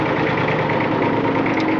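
A 1959 Fordson Dexta tractor's diesel engine idling close up, a steady loud throbbing chug with even rhythm and no voices.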